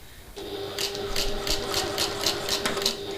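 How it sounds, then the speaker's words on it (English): A sewing machine bastes along the bottom edge of layered backpack fabric at a regular stitch length, its needle running in a steady, close, rhythmic patter with a constant motor hum beneath. "we're just going to baste along the bottom to keep those layers all nice together"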